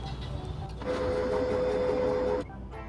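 An HP LaserJet 1005 laser printer powers on with a steady mechanical hum and a sustained whine from about one to two and a half seconds, then cuts out into quieter room noise; no one speaks.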